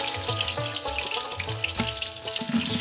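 Onions fry in hot oil for a village-style fish curry with winter vegetables, giving a steady, close sizzle and crackle throughout with no speech.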